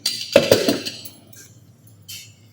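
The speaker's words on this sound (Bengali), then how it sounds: "এখন একটু নাড়াচাড়া দিয়ে একটু ঢাকনা দিয়ে রাখবো।" A lid set onto a pot of kabab polao, a few quick metallic clinks and clatters close by, followed by faint quieter rattles and a last light knock.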